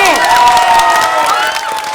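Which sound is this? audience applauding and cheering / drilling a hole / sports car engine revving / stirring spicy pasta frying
audience applauding and cheering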